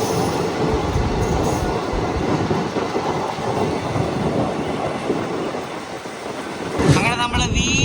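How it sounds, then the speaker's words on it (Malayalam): The Amritha Express rolls across Pamban Bridge in a loud, continuous rumble with rhythmic rattling of the wheels, and a metallic squeal rises near the end. Voices are heard faintly under the noise. "തിരുവനന്തപുരം പോകുന്ന അമൃത എക്സ്പ്രസ് പാമ്പം പാലത്തിന് മുകളിൽ കൂടെ പോകുന്ന ഷോട്ട് നമുക്ക് ഇനി ഒന്നുകൂടെ കിട്ടും"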